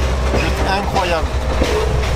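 Vintage train rolling through tropical forest, heard from between two carriages: loud rumbling wheels and rattling couplings with clattering metallic clicks, and a voice talking over it.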